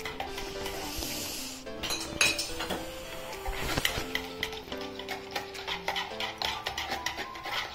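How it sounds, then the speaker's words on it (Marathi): A whisk or spoon clinks against a bowl while oil and yogurt are mixed for a semolina cake batter, making rapid, irregular metallic taps close to the mic, with no talk. "व्यवस्थित मिक्स झालं पाहिजे तेल आणि दही।"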